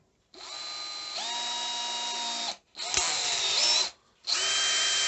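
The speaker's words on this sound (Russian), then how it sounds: "шуруповерт раз." A cordless drill-driver whirs in three bursts with brief pauses between, its motor pitch stepping up mid-run, loud and close with no talk.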